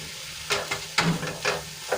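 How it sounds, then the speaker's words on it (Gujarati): Tuvar (pigeon peas) with green garlic, ginger and chillies sautéing in a pan over low heat, a soft steady sizzle broken by several gentle stirring scrapes, close and alone with no voices. "હવે બધું મિક્સ કરીને આપણે ધીમા તાપે હવે આપણી તુવેરમાંથી બધું પાણી છૂટું પડી જાય ત્યાં સુધી આપણે એને સંતળાવા દઈશું"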